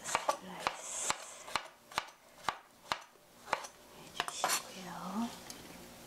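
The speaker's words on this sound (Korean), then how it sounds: "그냥 이렇게 얇게 슬라이스 옆으로" A knife thinly slices tofu sideways on a cutting board in a home kitchen, giving a steady run of about a dozen crisp, close taps with light handling noise between them.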